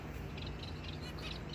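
Finches in a bird shop give short high chirps over a steady low background hum, faint and repeated in quick bursts.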